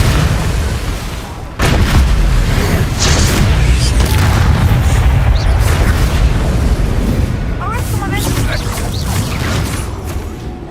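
Blasting spells explode repeatedly in Hogwarts Legacy, a dense run of loud booms and bursts with rumbling blasts that go on almost without a break, mixed with game voices and effects.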